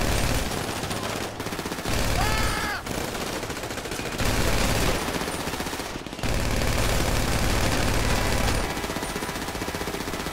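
Heavy gunfire in the video game GTA 5 during a heist, loud sustained automatic bursts that continue almost without pause, cut by a few brief gaps.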